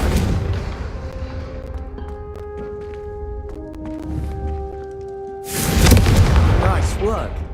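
Confringo spell cast in Hogwarts Legacy blasting candelabras: a loud, broadband fiery burst erupts near the end after a stretch of layered magical tones and low rumble, with faint voices underneath.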